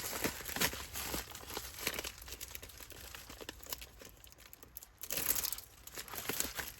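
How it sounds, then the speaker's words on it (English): An item being slipped into a crinkly plastic envelope while packing sales items for shipping, close, quiet crinkling and rustling in irregular bursts with brief sharper crackles. "I'll just take this envelope and I'll stick it in this envelope."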